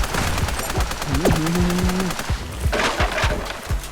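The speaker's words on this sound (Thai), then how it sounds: "ตอนนี้เราก็ยิงเหมือนกันนะครับ" Rapid machine-gun fire in Super Raft Boat Together, a dense fast train of sharp loud shots running through the whole stretch, with a brief rising tonal blip in the middle and a burst of heavier blasts near the end.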